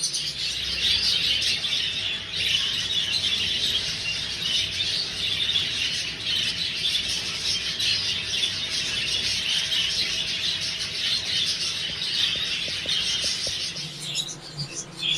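Steady dense chatter of many exhibition budgerigars, a continuous high twittering flock that goes on without pause.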